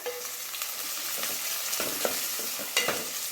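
Onions frying in a pan, a steady close sizzle with a few louder spits and crackles of stirring scattered through it.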